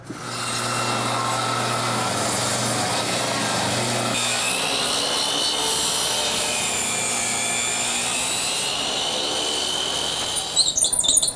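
A saw cuts a small piece off a wood board while framing a door on a knee wall, a continuous loud, close, whining rasp that shifts pitch partway through, ending with a few clattering knocks.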